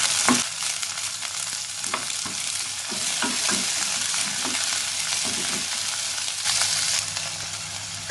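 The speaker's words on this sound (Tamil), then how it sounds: "ரெண்டு வெங்காயம், வெங்காயம் பொன்முறுவலாலாம் வதங்க வேண்டியதில்லை," Two onions sautéing in a pan for Chettinad kara chutney, a steady close sizzle of frying with repeated stirring scrapes, continuous and moderately loud with no talk.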